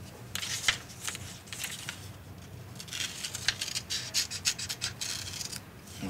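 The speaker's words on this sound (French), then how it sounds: "Je vais faire à sa partie distale une incision longitudinale" Scissors snipping and rounding the corners of kinesiology tape during a taping session, small crisp cuts and rubbing of the tape, close and fairly quiet with no talk.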